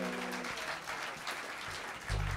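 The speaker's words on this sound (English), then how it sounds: "Another round of applause for the very," An evening concert audience applauds a singer, a dense wash of clapping that fills the short stretch, with a low musical tone entering near the end.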